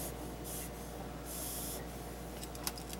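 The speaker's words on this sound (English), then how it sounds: "You squirt and dust comes out and gets the bulbs" A bulb duster squirts insecticide dust onto aphids in a garden, giving a few soft airy puffs close by, with a light tap near the end and no talk.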